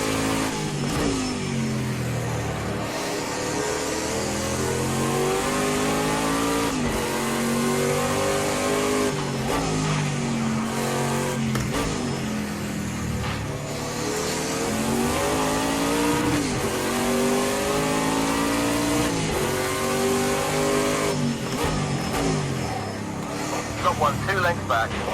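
Prototype race car engine in Project CARS 2, loud and close, revving up and down through repeated gear changes with rising and falling pitch sweeps, throttle eased on carefully over a long stretch.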